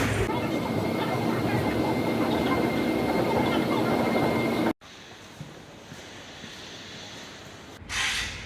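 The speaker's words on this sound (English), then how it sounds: "So we're transferring to the 2 train here." A Seoul subway Line 2 train rumbles steadily and close for about five seconds, then cuts to a quieter carriage hum with a brief swell near the end; a voice speaks over parts of it.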